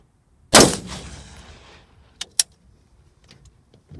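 One loud, sharp gunshot cracks out, an armor piercing green tip round fired at a Division Armory III+ stand-alone armor plate 50 yards away, its blast decaying over about a second, followed by two brief, sharp clicks.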